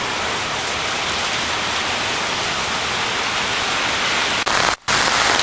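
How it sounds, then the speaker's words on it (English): Heavy rain falls in a dense, continuous hiss of drops on surfaces, loud and steady throughout, broken only by a brief dropout near the end. "It's really raining right now."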